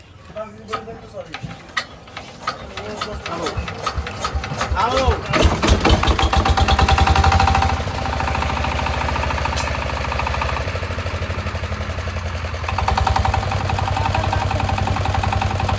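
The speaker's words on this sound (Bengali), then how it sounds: "এই ছিল ইঞ্জিন অরিজিনাল সিসি চাংচাই" A 25 HP Changchai CC diesel engine, newly unboxed, cranks and fires up, then settles into a loud, steady mechanical chug with a rising pitch shift partway through; someone speaks over the start.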